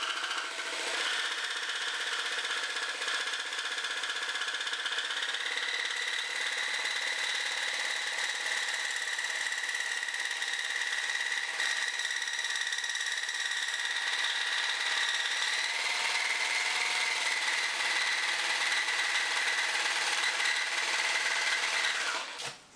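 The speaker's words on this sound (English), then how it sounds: "The advantage of using a jigsaw is that it is absolutely superb for doing radiuses and" A jigsaw cuts through acrylic sheet, a loud, continuous high-pitched buzzing whine with a steady rasping edge that holds for over twenty seconds, shifting pitch slightly as the cut progresses before stopping abruptly.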